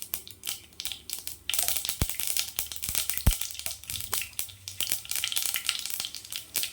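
Mustard seeds and urad dal fry in hot oil, a steady crackling sizzle with sharp pops and spluttering bursts. It starts quiet and grows busier and louder partway through, heard close up with no talk.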